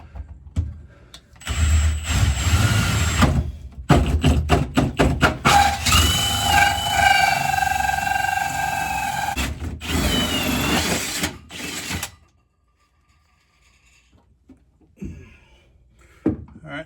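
A drill spins a 4-inch hole saw down through the bed of a 2023 Ford F250/F350 truck while a gooseneck hitch goes in. Loud whirring comes in bursts, grinding steadily through the metal with brief stops, then stops for quiet at the end.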